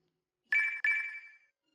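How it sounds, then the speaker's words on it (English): A high-pitched, grating electronic beep from a Zelda game signals a nearby voice memory, sounding as two quick close tones joined into a brief double chirp that rings out and fades in otherwise silent surroundings. "A beeping signal, which functions similarly to the Sheikah sensor, although much higher pitched and grating, will beep once if you're coming near to a location that houses a voice memory"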